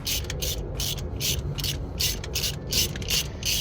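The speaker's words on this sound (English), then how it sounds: "let's get this thing tightened down. And remember, do like an X pattern" A hand ratchet tightens bolts in a crisscross pattern on a 1968 Ford Mustang during a backyard restomod, its rapid clicking bursts repeating in a steady rhythm, close and moderately loud.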